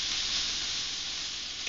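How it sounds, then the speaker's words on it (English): Smoked turkey sausage sizzles on a grill, a steady bright crackling hiss close up and continuous throughout, with no talking. "The sausage right now is just about done. Okay. Just like that. Put it back on the grill."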